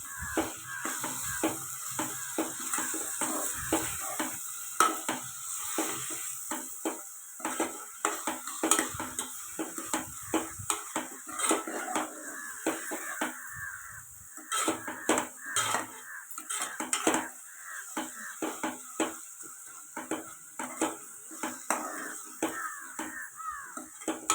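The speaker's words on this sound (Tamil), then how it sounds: "புதினாவும் கொத்தமல்லியும் சேர்த்துட்டு சேர்த்துட்டு நல்லா இன்னும் கிண்டி வதக்கிட்டுக்கலாம்" Mint and coriander being stirred and sautéed in a pan for vegetable biryani, with steady clinks and scrapes of a metal spoon against the cookware, a faint sizzle underneath and no talking.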